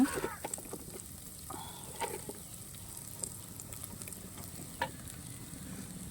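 Pirandai, adamant creeper, is sautéed in a little oil in a pan, giving a soft ongoing sizzle with occasional stirring scrapes and clicks of a spatula, fairly quiet and steady throughout.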